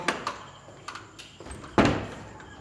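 A heavy door thuds shut inside an abandoned mansion, a single loud knock after a few fainter knocks and creaks, in a hollow, echoing room with no talk.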